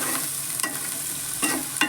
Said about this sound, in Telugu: ఇదిగోండి, ఇందులో కరివేపాకు వేసుకోవాలి.